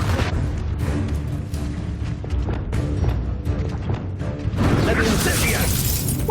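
Confringo blasting spell explosions in the Hogwarts Legacy video game, several loud bursts and shattering crashes over a steady roar of combat noise, with a bright hissing debris burst near the end and some voices in the background.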